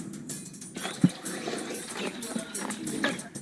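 Hunting dogs whimper and yip in a cramped rocky spot while tracking a rock hyrax, a brief sharp dog call standing out over faint outdoor rustling and background voices.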